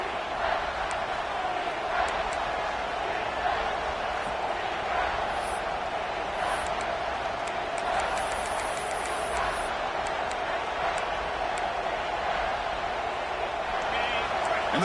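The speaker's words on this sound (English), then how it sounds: "the crowd coming to life here, trying to help this defense down in the red zone" A video game football crowd in the red zone roars in a steady, continuous wash of noise while a game commentator talks over it.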